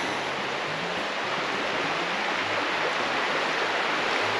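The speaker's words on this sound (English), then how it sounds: "I'll take a picture of the creek for you, Grant." A creek flows along a hiking trail to Landslide Lake, a steady broadband rush of moving water filling the whole clip, close and continuous with no voices.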